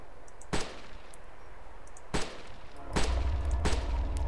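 Gunshots from the video game DayZ Mod, four sharp separate cracks spaced over a few seconds, with a low rumble swelling beneath the later shots.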